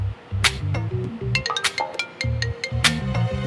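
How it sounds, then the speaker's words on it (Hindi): A mobile phone rings with a bright, melodic electronic ringtone for an incoming call from the bank in a Hindi TV drama, its repeating tune phrases sounding clearly up close. "बैंक वालों का फोन है।"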